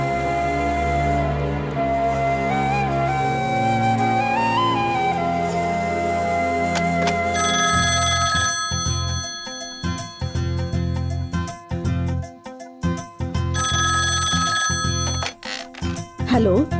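A telephone rings in a Hindi-dubbed action movie scene, its bell tones repeating in short bursts partway through, heard under music and voices.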